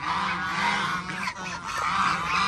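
Several geese feeding on termites honk loudly and continuously at close range, their nasal calls overlapping with a brief dip partway through.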